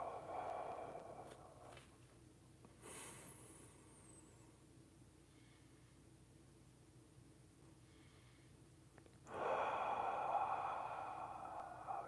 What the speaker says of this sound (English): Fully exhale.